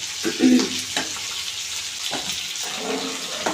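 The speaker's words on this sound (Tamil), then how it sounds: "இப்போ வந்து நம்ம மீன் போட்டுக்கலாம்" Fish pieces go into a simmering pot of traditional South Indian fish curry, with a soft splash and bubbling sizzle up close, followed by steady low simmering and faint stirring.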